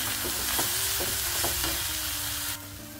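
Dried shrimp (sukat) frying in a pan with onion, chilli powder, turmeric and soaked kokum pieces, a steady close sizzle with a few soft stirring scrapes, the frying hiss dropping slightly near the end.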